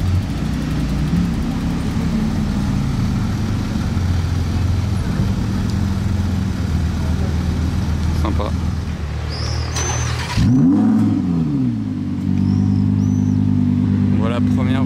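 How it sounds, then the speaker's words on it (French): A Corvette Black Series pulls up in front of the Hôtel de Paris in Monaco, its engine rumbling steadily and swelling into a louder, rising rev near the end, with a voice talking over it. "avec la Corvette qui arrive devant l'hôtel de Paris"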